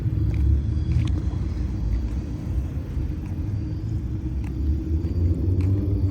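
Cars pulling out of a car show make a continuous low engine rumble, steady and fairly close, with faint clicks over it and no talking.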